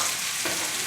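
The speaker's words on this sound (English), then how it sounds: "From there, we go onion in. Hear that sizzle?" Onions and peppers sizzle steadily in a hot frying pan while Cajun shrimp is cooked, a dense continuous hiss that brightens briefly as more vegetables drop in, heard close with no talking.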